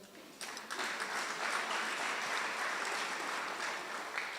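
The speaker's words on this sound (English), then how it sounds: "You can clap hands." Audience at a college graduation ceremony breaking into applause, quiet at first and then rising to a full, steady wash of many clapping hands that continues evenly at moderate distance.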